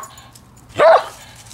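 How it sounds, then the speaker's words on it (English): A single short bark from a pet dog, loud and close, rising sharply then cut off, with a quiet room around it and no talking. "I think the only way Casey will stop barking"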